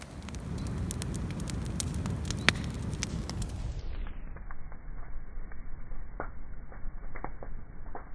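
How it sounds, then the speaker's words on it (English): A large outdoor bonfire of pushed-in brush and debris burns steadily, giving a continuous low roar with scattered sharp crackles and pops throughout, fairly close and with no talking. "the final phase of the bonfire. All pushed in, all nice and neat, all burning away."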